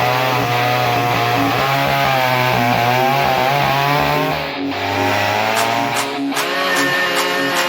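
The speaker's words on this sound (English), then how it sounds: "Is this the McCulloch Pro Mac 1010? Is this arguably the best firewood chainsaw to have?" A McCulloch Pro Mac 1010 firewood chainsaw runs steadily and loud up close, its engine note wavering slightly with throttle and briefly dipping midway, with no voices over it.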